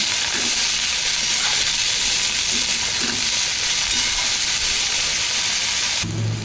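Mixed vegetables with green chili fry in a pan with a steady loud sizzle and hiss, with faint stirring taps throughout and a brief change near the end.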